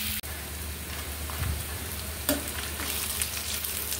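Onion, garlic and bay leaf fry in oil for a tempering, a steady close crackling sizzle with a couple of brief clanks. It is fairly quiet and continuous, with no voices.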